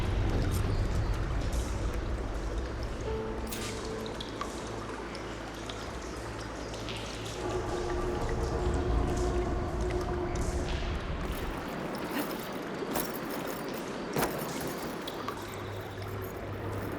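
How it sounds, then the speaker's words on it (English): Water pouring and trickling into a room in Horizon Forbidden West, a continuous close rush of flowing water with splashy streaming texture and a few sharp knocks, no talk over it. "Aloy, I can hear water in the room again."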